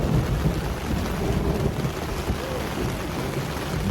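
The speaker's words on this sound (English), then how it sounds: "Big lightning, which is gonna mean big thunder here." Heavy rainstorm at a wet campsite, with a steady loud wash of rain and a low rolling rumble of thunder running underneath, no voices.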